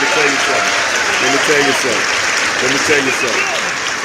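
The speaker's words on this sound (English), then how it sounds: "Give him a round of applause." Audience applause for a guest at a live Miami Hurricanes talk show, steady dense clapping with voices and cheers mixed in throughout.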